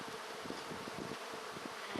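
Honeybees buzz in a dense, steady drone at an open spring hive during a swarm-season inspection, the hum close and continuous with no talking.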